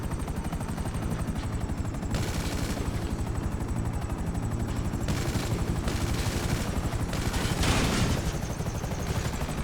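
Steady helicopter rotor drone in a video game, overlaid with repeated bursts of rapid machine-gun fire, loud and continuous throughout, with a heavier burst near the end.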